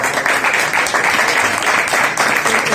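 An audience applauding at a birthday celebration for a union leader, steady dense clapping from a crowd throughout, fairly loud and continuous.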